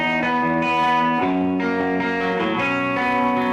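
Electric guitar played through a Fender Super Reverb amplifier, sustained chords ringing with reverb-like wash and slight grit, changing around the middle, loud and continuous with no talk.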